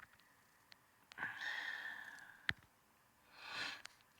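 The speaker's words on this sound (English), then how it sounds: "ignore my sniffling because I got a little bit of" A person with a cold sniffles and breathes heavily through the nose, giving a few soft, close sniffs and a drawn breath in an otherwise quiet room.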